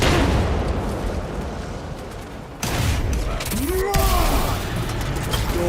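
A crack grenade goes off in Warhammer 40,000 Space Marine 2, a sharp loud burst around the midpoint over dense battle noise, with gunfire and mechanical clatter continuing throughout and a whining tone sweeping through near the end.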